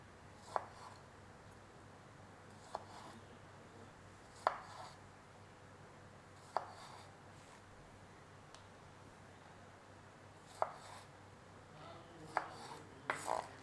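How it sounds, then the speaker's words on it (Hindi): A knife cuts strawberries into quarters on a board, giving sparse, faint, crisp taps a couple of seconds apart, with a quicker cluster near the end over a quiet background. "तो अभी ये स्ट्रॉबेरी सारी मैं काट लूँ फिर आपको दिखाता हूँ"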